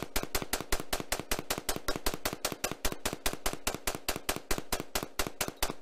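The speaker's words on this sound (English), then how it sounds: "First up, the standard semi-automatic AR-15 with no add-ons." A standard semi-automatic AR-15 rifle with no add-ons fires a rapid string of about thirty loud, sharp shots at roughly five per second, evenly spaced and continuous, with no voices.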